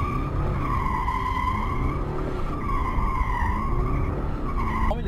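A BMW with xDrive all-wheel drive skids across slippery, dusty ground, its tires squealing in a loud, continuous wavering whine that rises and dips across the run.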